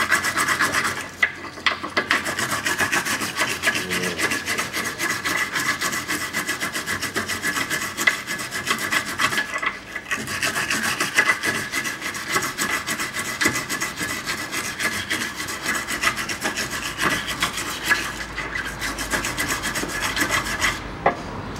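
A lower rear suspension bushing from a 2012 Toyota Camry XV50 2.5 is scrubbed clean, giving a steady close scraping and rasping sound that continues with short gaps, with no voices.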